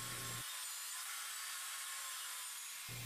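A power saw cuts half-inch maple plywood into squares with a loud, sustained whine and rasp. It starts and stops with a short burst of motor hum at each end.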